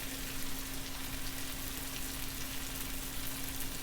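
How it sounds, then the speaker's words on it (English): Hardy vegetables such as potato, brinjal and cucumber hitting a hot pan for a South Indian stir fry, giving a steady soft crackling sizzle with a faint constant hum underneath. "And now I'm going to add the hardy vegetables."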